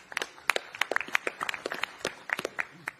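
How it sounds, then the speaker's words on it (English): A small audience at a boxing press conference claps for the event hosts. The claps are sparse and uneven, and they continue for a few seconds in an indoor room. "Can we please get a round of applause for our brilliant MCs today?"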